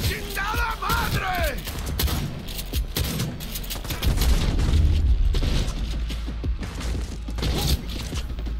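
Shotgun fire in Cyberpunk 2077: heavy booming blasts and gunfire in a dense, loud game mix, with sustained rumbling and a few sharp reports spread across the stretch.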